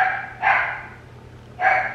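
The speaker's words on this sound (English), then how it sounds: "Those are my annoying dogs." Dogs bark indoors, two loud, close barks about a second apart, with quiet between them and no talking.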